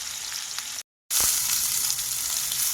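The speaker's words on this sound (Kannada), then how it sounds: "ಅಲ್ಲಿವರೆಗೂ ಟೊಮೊಟೊ ಚೆನ್ನಾಗಿ ರೋಸ್ಟ್ ಆಗಬೇಕು." Tomatoes roast in a hot pan with a constant close sizzle and crackle, broken by a brief silent gap before the frying noise returns just as strong.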